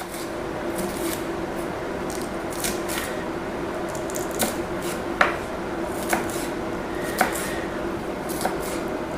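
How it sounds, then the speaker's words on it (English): A knife slices peppers lengthwise into strips on a cutting board for spaghetti bolognese, making steady soft cutting taps punctuated by a few sharper knocks against the board, with no talk. "Slice them long ways."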